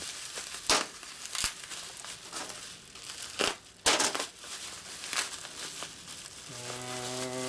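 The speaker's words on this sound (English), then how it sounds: "I'm just going to cut it open." Plastic packaging cut open by hand, heard as close, sharp crunching and crinkling bursts at irregular intervals, fairly quiet overall, with a brief tonal ring near the end.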